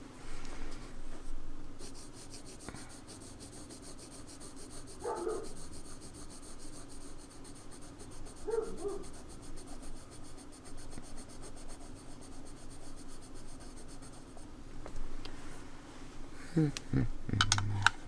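A Stabilo Aquacolor watercolor pencil scratching and rubbing across paper in short swatching strokes, soft and close, with intermittent faint handling noises and a quiet voice in places.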